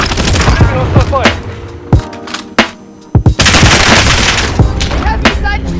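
Gunfire on Rebirth Island in Call of Duty Warzone: loud, close automatic bursts and single cracks in an uneven rhythm, broken by short pauses, with a brief in-game voice line.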